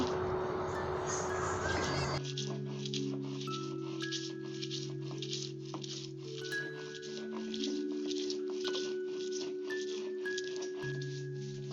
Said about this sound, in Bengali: পেঁয়াজগুলোকে আমি বেটে নেব